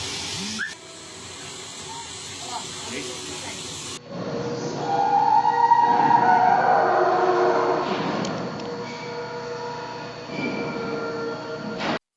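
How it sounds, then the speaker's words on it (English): A train rumbles through a monsoon-flooded street in Mumbai, its wheels squealing and grinding at close range, loud and steady for several seconds before easing off. "the city's trains continued running through the deluge"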